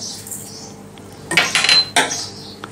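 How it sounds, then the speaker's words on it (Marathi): Amaranth flour and thalipeeth ingredients being mixed in a bowl, with a few close clinks and scrapes of utensil against the bowl in short bursts after a quiet start. "यामध्ये आपण हे सगळे पदार्थ मिक्स करून घेऊयात।"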